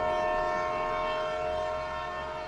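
A train horn sounds in a long, steady, harmonic blast with a faint rumble of rail cars underneath, holding at moderate level and slowly easing off.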